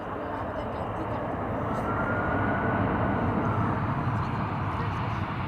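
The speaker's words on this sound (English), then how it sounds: "Nice use of the reversers." An airliner landing at wintery Amsterdam Schiphol with thrust reversers deployed gives a steady, broad roar that holds throughout and swells slightly toward the middle.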